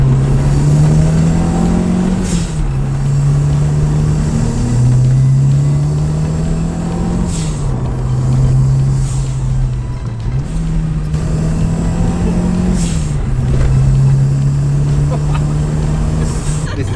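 Renault Super 5 GT Turbo driving hard, its engine droning loud and close, climbing in pitch through each gear then dropping sharply at repeated shifts, with the cycle of revving and shifting continuing steadily throughout.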